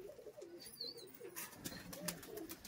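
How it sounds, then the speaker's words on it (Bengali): Madras baby pigeons coo softly in low, rolling calls that repeat at close range, with faint chirps and light rustling and clicking around them. "এই দেখুন পায়রা স্ট্যান্ডিং"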